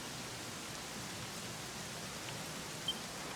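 Steady rain in the role-playing game Dragon Quest XI, an even hiss of falling drops heard alone at moderate level.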